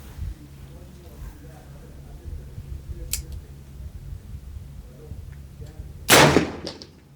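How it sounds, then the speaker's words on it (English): A rifle shot fired at a bowling pin through a Wm. Malcolm 6X long scope with parallax adjustment, a sharp loud crack near the end with brief ringing decay, preceded by a fainter snap, under a steady outdoor background with some talking. "So, let's get shooting. I'm going to go for the left bowling pin."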